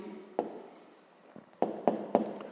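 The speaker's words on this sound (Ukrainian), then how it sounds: "Ну що ж, записуємо тоді відповідь." Pen writing an answer to a fifth-grade math exercise on paper, a few short, close scratches and taps in quick succession in an otherwise quiet room, with no talking.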